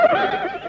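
A horse lets out a short, loud whinny close by, a brief wavering neigh in a dramatic scene.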